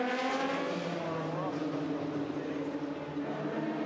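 The IDEX Sport race car comes down the pit road at the Le Mans race, a loud, close engine drone whose layered tones waver and slide in pitch before easing off slightly at the end.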